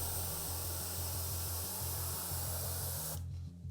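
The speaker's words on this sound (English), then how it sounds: "It paints a hell of a lot better than my cheapo airbrush." A compressor-driven airbrush sprays paint in a steady, close hiss with a low pulsing compressor thrum underneath, then the spray cuts off abruptly near the end, leaving only the compressor running.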